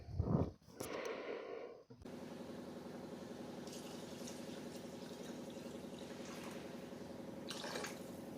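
Water being poured into a pot for khichdi, a steady close liquid pour with a sustained filling tone, preceded by a brief clatter.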